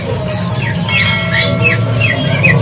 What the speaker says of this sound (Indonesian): Ini untuk stok nih dari burung sanger yang pilihan jantan